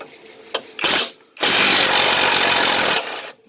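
Cheap cordless power tool zipping off motor mount bolts during a transmission job, one short whirring burst followed by a longer loud, steady run that stops abruptly, close by.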